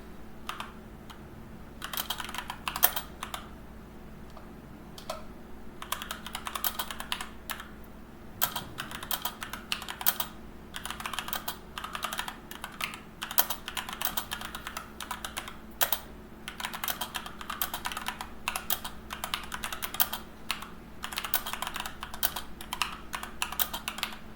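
Steady typing on a computer keyboard, a long run of quiet, irregular key clicks with short pauses between bursts, close and alone.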